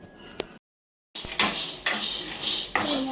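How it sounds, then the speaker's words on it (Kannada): Maggi noodles fried and stirred in a pan for a viral chaat recipe, with loud metal utensil scraping and clattering against the pan in bursts after a short silent gap, plus a light sizzle underneath. "ಫ್ರೈ ಮಾಡ್ತಾ ಇದ್ದೀನಿ."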